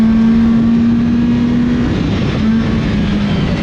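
A $400 junkyard motor in a race car at Willamette Speedway's Friday night qualifier drones loud and steady near its rev limiter, a sustained engine roar with a faint wavering tone and no pauses.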